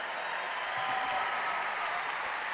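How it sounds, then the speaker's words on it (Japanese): Sustained applause from an arena crowd at the 2002 Salt Lake City Olympic figure skating short program, a dense, even wash of clapping that holds steady from start to finish, fairly distant. "そしてコーチの方が今大きな拍手を送っています。"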